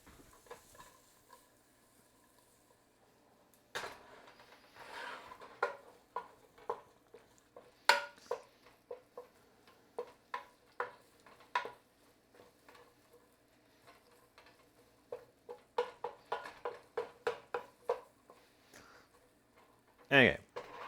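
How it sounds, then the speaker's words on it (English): Onions frying for a stir fry, heard as a quiet sizzle with frequent clicks and scrapes of stirring against the pan, in irregular bursts, louder near the end, with a voice talking over it. "A sizzle is what I wanted to start with."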